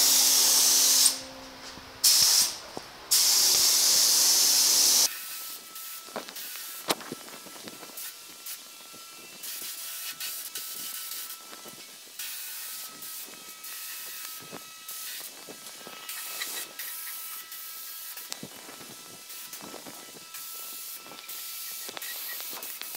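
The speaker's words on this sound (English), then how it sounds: "Let's load the gun and get spraying." A spray gun blasts primer in two short bursts and then a longer one, a loud broadband hiss, followed by quieter handling and shuffling noises.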